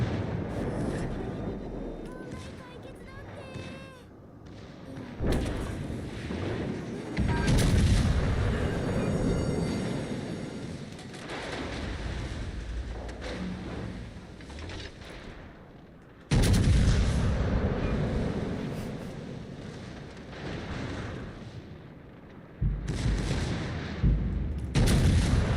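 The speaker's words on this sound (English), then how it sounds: "Look, I'm testing guns here." In the naval game World of Warships: Legends, heavy ship guns fire in loud booming salvos with rumbling tails, bursts recurring every several seconds over a continuous battle din.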